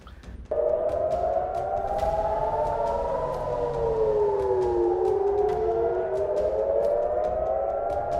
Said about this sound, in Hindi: पूरे इजराइल में सायरन बज रहा है